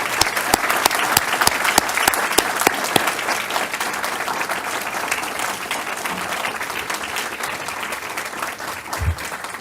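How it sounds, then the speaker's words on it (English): Audience at a school board of education meeting breaks into sustained applause for high school students, dense clapping filling the room steadily from start to finish with a few sharper claps near the front. "let's give them an applause"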